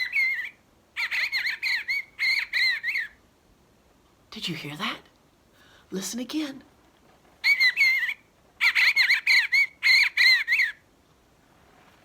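Recorded bird calls played for a children's guessing game, several bursts of bright chirping song repeating in groups, with a person talking briefly in between.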